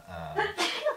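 A single sharp sneeze bursts out close by, followed by a softer breathy catch, with faint voices around it during a casual podcast conversation.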